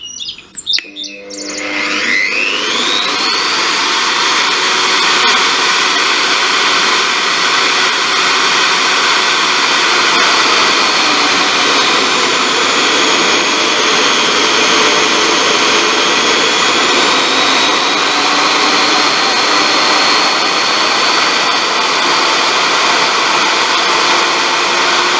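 An MSW magnetic drill motor starts up with a brief rising whine, then runs steadily and loudly for the rest of the stretch, a continuous high mechanical hum with a sustained tonal whine and no talking.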